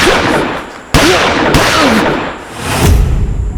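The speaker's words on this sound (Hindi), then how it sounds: "ये तो गोलियों की आवाज है ना?" Several loud gunshots crack out in quick succession, sharp bursts echoing over a noisy background.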